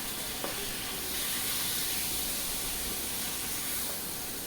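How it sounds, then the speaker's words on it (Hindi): Half a kilo of washed, cut chicken pieces frying in a pan for a chicken macaroni dish, giving a steady, moderately loud hiss and sizzle with no talking. "अच्छी तरह इसकी भुनाई करेंगे हम चिकन की।"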